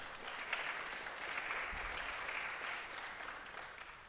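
A church congregation applauds in a steady, moderately quiet wash of clapping that holds evenly throughout, with a brief low thump near the middle.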